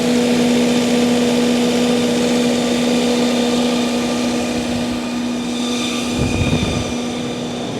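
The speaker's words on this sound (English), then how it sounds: "this is another 70 KVA Multiquip generator." A 2012 Multiquip Whisperwatt 70 kVA diesel generator runs at a steady drone with a constant tonal hum, continuous and fairly loud throughout, with a brief low rumble swelling near the end.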